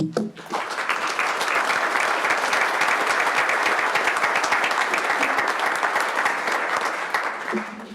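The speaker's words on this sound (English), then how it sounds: "I'd sure like to give him a big round of applause" An audience at a tribal council meeting breaks into sustained applause after a brief voice, a thick, even round of clapping lasting several seconds before tapering at the end.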